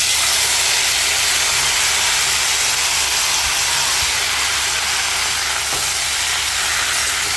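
Tomatoes drop into hot oil tempering with spices for a sweet tomato chutney, sending up a loud, continuous sizzle and hiss close by.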